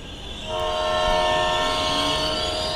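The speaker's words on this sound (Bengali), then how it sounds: "কিছুক্ষণের মধ্যেই হুইসেল বাজিয়ে ট্রেন প্রবেশ করল স্টেশনে।" A train sounds its horn while pulling into a station; after a quieter rumble in the first half-second, a loud sustained tonal blast holds steady over the rest of the clip, with no voices.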